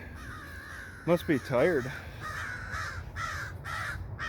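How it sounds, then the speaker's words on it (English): Crows caw outdoors in Dinosaur Hills, Rapid City, South Dakota, giving several harsh, fairly close calls in a quick burst, followed by a few more caws mixed with a man's speech. "That's why the other crows are acting silly."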